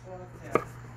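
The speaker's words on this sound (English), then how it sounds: "And we use a sharp knife. Just go slow." A single crisp chop as a sharp Shun Narukami kitchen knife comes down through food onto a cutting board, heard close over a quiet low hum.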